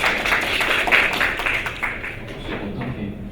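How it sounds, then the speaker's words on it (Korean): An audience claps for a speaker being introduced at a university innovation forum session, a dense, steady patter of many hands that holds level for a few seconds and thins slightly toward the end, with no talk over it. "큰 박수 부탁드리겠습니다."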